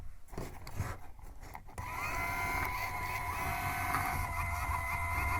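Small electric motors of an obstacle-avoiding robot buggy whir steadily as its wheels turn in opposite directions, a close, continuous hum that starts abruptly partway in after faint handling noise.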